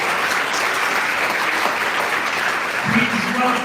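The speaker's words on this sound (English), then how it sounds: "Please give him a round of applause." A live NYC jazz audience applauds steadily and densely throughout, at the Afro Latin Jazz Orchestra's 20-year tribute concert for Chico Cajigas. Brief voices or tones surface near the end.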